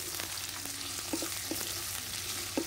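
Chopped onion and crushed garlic frying in a pan, a steady close hiss of sizzling oil with a few soft scrapes and taps of stirring, no voices.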